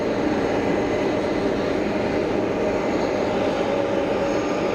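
A Pilatus PC-24 small business jet passes at Geneva Airport with a continuous, fairly loud broadband engine rush that holds steady and has no voices over it.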